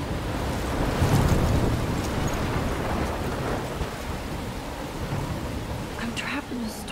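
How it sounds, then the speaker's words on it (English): A thunderstorm rages in Life Is Strange, with heavy steady rain hiss and low rumbling throughout, a heavier rumble near the start and the wash of wind and surf-like noise, with a brief voice near the end. "I'm trapped in a storm?"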